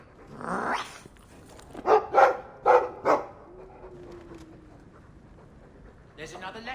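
A dog in the video game Dragon Age 2 lets out a single bark, then a burst of four sharp barks with a low growl, with a voice speaking briefly at the end.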